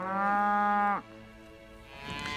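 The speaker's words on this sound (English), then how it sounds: "These are your classic longhorn cattle." Longhorn cattle lowing on a working ranch on the Great Plains near Dodge City: one long, loud, close moo that breaks off after about a second, then quieter rustling and a softer second call from the herd.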